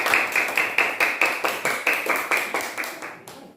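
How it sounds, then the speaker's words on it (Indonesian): Classroom students clapping together for a student group: a run of about a dozen rhythmic, evenly spaced claps, close and fairly loud, stopping abruptly. "Ya, tepuk tangan untuk kelompok 2."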